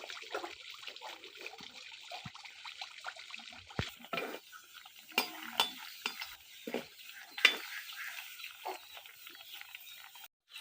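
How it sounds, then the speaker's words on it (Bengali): Malpua pitha frying in hot oil, a steady close crackle and sizzle running the whole time with occasional sharper pops and spoon stirring, no talking. "আমি সবগুলো পিঠা ভেজে নিব"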